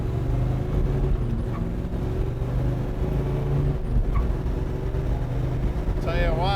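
A 1970 Chevrolet Chevelle SS accelerates at about half throttle, heard as a continuous low engine drone from inside the car, loud and steady, with a brief rising whine near the end.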